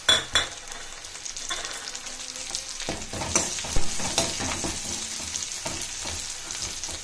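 Green chili, dried chili and curry leaves fry in hot oil, giving a steady close crackling sizzle, with sharp pops near the start and stirring scrapes and clinks throughout.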